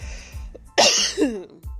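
A single sharp cough bursts out loudly, followed by a short rasping tail, with quieter rustling before and after.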